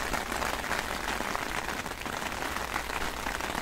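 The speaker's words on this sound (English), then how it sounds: "Oh great, here comes the rain again." Steady, dense patter of rain falling on a surface, a continuous hiss of drops with no pauses and no voices.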